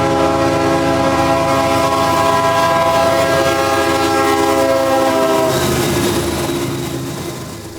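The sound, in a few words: CSX freight train passing Fort Meade depot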